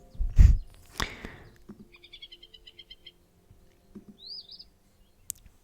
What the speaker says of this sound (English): With the greater prairie chicken.